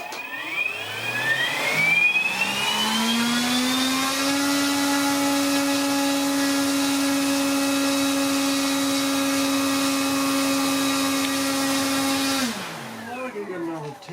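A scale-model Martin Mariner flying boat's electric motor and propeller spin up from rest, whining higher to a loud, steady, close-up drone that holds for several seconds before winding down near the end.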